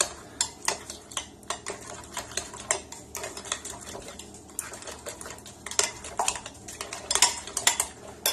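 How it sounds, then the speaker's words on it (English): A spoon stirs garlic aioli dipping sauce in a bowl, giving a steady run of light clinks and scrapes against the dish, close and fairly quiet, with no talking. "I have a spoon here. I'm going to give this all a stir."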